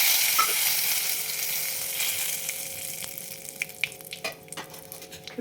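Curry leaves, with cumin and turmeric, sizzling in hot oil for tempering while cooking matvadi palya: a steady bright crackling sizzle up close, with a few sharper pops and light stirring toward the end.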